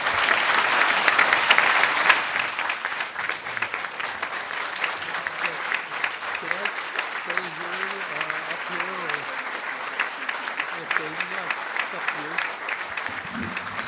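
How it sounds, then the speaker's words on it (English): Audience at a university seminar and reception for a former dean applauding steadily after a farewell speech, dense clapping from a room full of people with a few voices murmuring underneath. "this is not to cut off the well-deserved applause"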